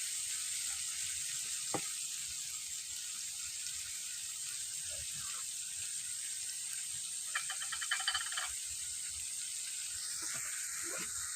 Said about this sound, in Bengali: আমি সব এবার রসুন আর পেঁয়াজটাকে একটু একসাথে করে 5 মিনিটের মতন ভেজে নেব লাল লাল করে